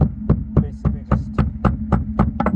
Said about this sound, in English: tap the socket until it goes in.